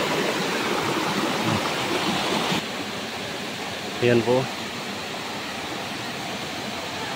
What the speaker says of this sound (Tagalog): hindi gaanong malakas yung tubig